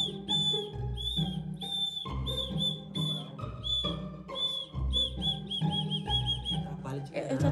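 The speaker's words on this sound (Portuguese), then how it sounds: "Vou ver se na hora da edição o editor dá uma baixadinha nessa hora do apito, porque vai ficar bem alto." A whistle blown over and over in short and drawn-out shrill blasts, loud and close, with voices and other sounds underneath.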